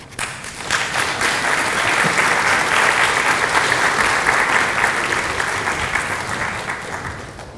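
Applause from a lecture audience welcoming a speaker to a talk on race, memory and reconciliation: steady, dense clapping that swells in and holds evenly for several seconds, with no voices over it.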